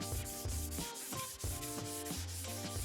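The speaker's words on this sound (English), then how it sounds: "I just wanna sand it smooth and make sure that there's no like high areas or low areas" Steady back-and-forth sandpaper rubbing on a wood surface coated with oil finish, smoothing it in rhythmic strokes, close and fairly quiet with a faint tonal hum underneath.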